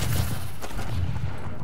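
Scattered gunfire in Call of Duty: Advanced Warfare crackles through a dense, busy game mix, with a sharper shot standing out partway through and no talk.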